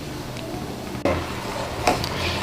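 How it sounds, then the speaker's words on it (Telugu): Almond paste stirred into boiling milk in a pot, with a spoon knocking twice against the metal rim over a steady low simmer. "బాదం పేస్ట్ వేసిన తర్వాత పచ్చివాసన పోయే వరకు ఒక నిమిషం వరకు మరిగించుకుంటే మనకి ఫ్లేవర్ అనేది చాలా బాగుంటుందండి ఇలా మధ్య మధ్యలో కలుపుకుంటూ మరిగించుకోవాలి"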